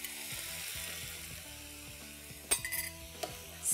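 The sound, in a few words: milk with corn flour sizzling in a frying pan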